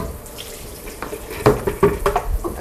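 Mixed salad greens are rinsed under a running kitchen tap, a steady low water rush with louder splashing bursts as the leaves are moved through the stream, close and alone.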